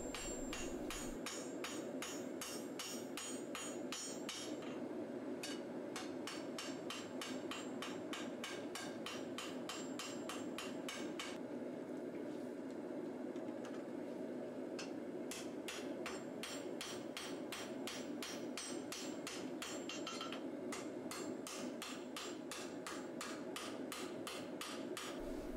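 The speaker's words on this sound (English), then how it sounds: "I start at the point, flattening out the edge that will become the cutting edge." Steady, rapid hammer blows ring out as the bevels of a hand-forged katana are shaped, starting at the point and flattening the cutting edge; close, loud metallic strikes repeat in a regular rhythm throughout with only brief pauses.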